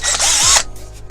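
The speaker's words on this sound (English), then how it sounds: "These is a bloody good drill here" A Draper power drill whirs loudly for about half a second in a short burst, winding down quickly, with quieter mechanical clicks after it stops.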